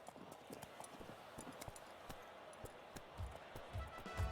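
Racehorses walk onto the track in the video game Gallop Racer 2004, a steady rhythmic clip-clop of hooves that grows slightly heavier and closer toward the end, with no voices over it.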